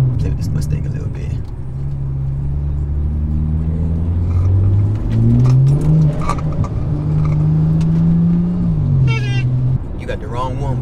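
A stage 2 BMW 340i revving and accelerating from a light, its engine note climbing and holding loud and close with a deep rumble throughout, with a brief higher chirp near the end as it shifts.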